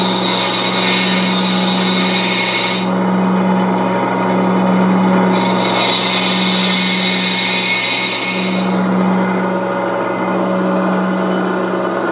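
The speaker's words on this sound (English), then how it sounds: "Next step is to grind a top rake." An HSS thread-cutting tool has its top rake ground on a CBN wheel: a loud continuous grinder hum with steady tones, and a brighter scraping layer that comes and goes as the tool is pressed to the wheel.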